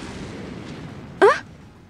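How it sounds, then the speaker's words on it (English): A single sudden blast erupts in the Collar X Malice video game, rocking a building, a short loud boom that quickly fades over a low steady background. "Another explosion hit, and the building was rocked again."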